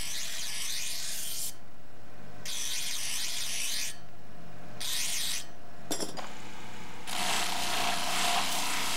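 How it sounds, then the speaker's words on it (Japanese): A coarse grinder grinds the back of a hand-forged knife blade, a loud steady hiss in bursts of a second or two separated by short pauses, with one sharp clack midway and no talking. "裏側を目の粗いグラインダーで研ぎ滑らかにします。"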